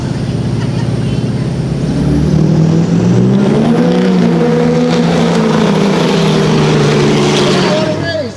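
Production drag race cars, a Chevy V8 and an inline-six Dodge, roar loudly down the track, their engine tones rising and sweeping as they accelerate, with an announcer talking over them.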